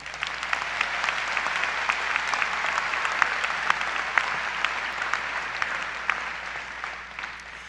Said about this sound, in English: Would everyone please give a round of applause to our families?